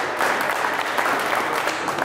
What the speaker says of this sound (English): Let's give him a Johnny Hamlet big round of applause as well.